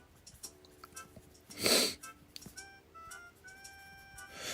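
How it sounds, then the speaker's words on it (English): A single short, breathy sneeze bursts out midway through a quiet room with faint background tones. "I gotta sneeze again."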